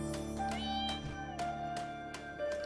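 A cat meows in the game Catmaze, several tonal, drawn-out mewing calls in close succession, moderately loud over a quiet background with faint clicks.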